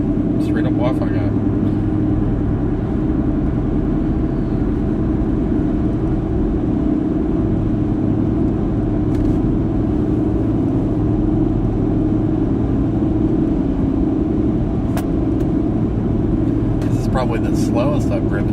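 A car towing a trailer down Route 50 at about 60 miles an hour, a loud, steady interior road and engine drone with constant low rumble and tire noise, while someone talks over it.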